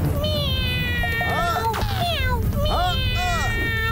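A cartoon cat meows repeatedly in a drawn-out, wavering voice, with short bursts of other voices and sound effects between the cries.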